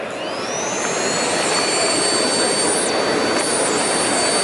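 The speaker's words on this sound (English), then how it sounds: "it's actually cleaning that pleated filter for you in there so you don't have to" A Miele CX1 Cat & Dog bagless canister vacuum runs with a loud, steady motor roar and a high whine that rises and dips as it self-cleans its pleated filter.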